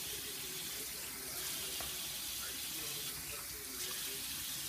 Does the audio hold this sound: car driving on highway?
no